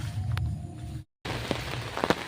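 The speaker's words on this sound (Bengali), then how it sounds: "বন্ধুরা বৃষ্টি পড়ছে" Steady patter of rain falling on a house during a storm, with a brief dropout in the middle and a couple of sharper drips near the end.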